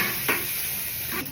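Anchovies dropped into hot oil in a pan give a loud, continuous close sizzle, with a couple of brief stirring scrapes rising over the hiss.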